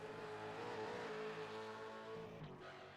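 V8 Supercar series race cars roar around Daytona in a loud, sustained engine drone whose pitch wobbles as they run over bumps, with a brief scrape near the end.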